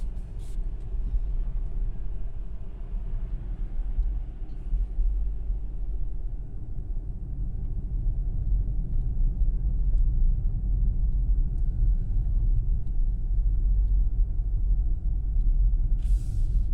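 Ford Mustang Mach-E with Select AWD climbing a hill on slushy snow, a steady low rumble of tires and road noise continuing throughout, with no voices.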